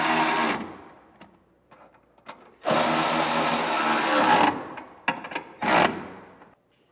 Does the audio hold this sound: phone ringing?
no